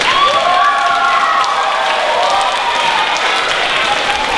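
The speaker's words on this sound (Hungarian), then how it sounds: "tapsoljátok!" Audience applause at a stage event, steady dense clapping filling the room throughout, loud and even, with faint voices rising above it.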